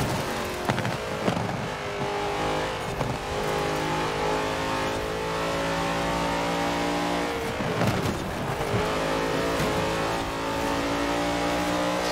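Loud race car engines in Forza Horizon 4, continuous revving with rising and falling pitch as gears change, a drift car overtaking, occasional tire squeal, no talk.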